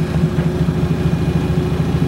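Lexus IS300 engine idling steadily up close, a low continuous hum with a fast, even ticking from the fuel injectors running through it.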